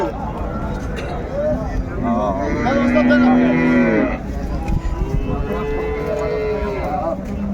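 Dairy cows and calves at Raniganj cattle market in Dinajpur give long, loud, drawn-out moos close by, one low call after another, amid the bustle of the market and people talking.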